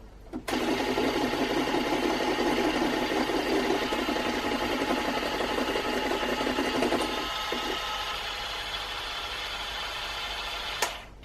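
Electric mixer whirring steadily through gluten-, lactose- and yeast-free Victoria sponge cake batter, a loud continuous motor drone that drops in pitch about two-thirds through and cuts off near the end.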